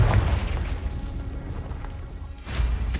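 A Confringo fire spell explosion in Hogwarts Legacy, starting as a deep booming burst, fading to a rumbling tail, then flaring into a second bright crackling blast.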